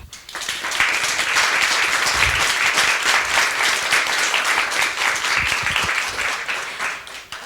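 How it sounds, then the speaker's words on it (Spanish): An audience applauds panel guests at a discussion forum, with dense, sustained clapping that swells quickly, holds steady for several seconds and then tapers off. "Juliana Rojas, Verónica Plata, para quienes pido un aplauso."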